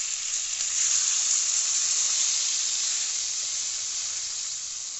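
Water poured into a hot pan of raw hilsa fish for a curry with green banana, hissing and sizzling loudly and steadily for several seconds before easing slightly, with no voices over it.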